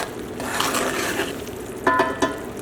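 Melted sugar pie filling for a graham cracker pecan pie is stirred steadily, a soft continuous scraping and sticky swishing with a couple of louder utensil knocks near the end.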